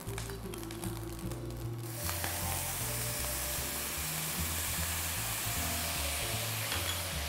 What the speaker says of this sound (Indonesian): Kita gedein apinya. Kita masukkan kecap asinnya.